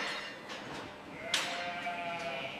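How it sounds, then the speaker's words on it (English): Sheep bleating at a meat processing factory where they are released in stages: a continuous, close chorus of overlapping bleats with one louder cry standing out midway. "After arriving at the factory, the sheep are released in stages."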